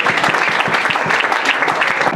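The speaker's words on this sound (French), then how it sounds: "capable de saluer avec un grand applaudissement" Applause from a church congregation during a French-language worship service, dense steady clapping filling the whole stretch at close range, with no voices standing out.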